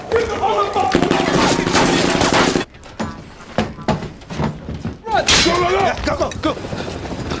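Rapid bursts of gunfire crackle through a loud, busy shootout scene from the film Triple 9, with music and effects, a brief lull, then more shots and clatter.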